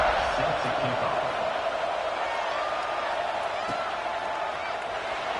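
A steady, loud roar of a packed stadium crowd in a college football video game, Clemson at Michigan, swells around a kickoff and holds throughout under a commentator's voice.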